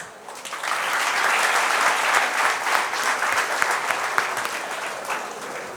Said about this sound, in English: give yourselves a round of applause that you made the right decision to join a good college